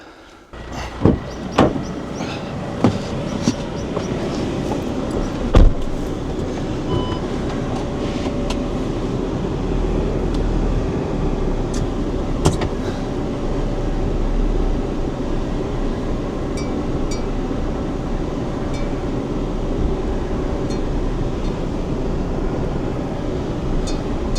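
A van rolls slowly through snow in the French Alps with a steady low engine rumble and crunching, rattling road noise, a few sharp clunks and knocks early on, then a continuous drone.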